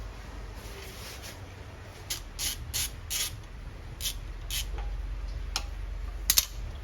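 On a Porsche 911 996, a wrench removes a 10 mm bolt on the brake hose, giving a series of short, sharp clicks in spaced clusters over a low background hum in a garage setting.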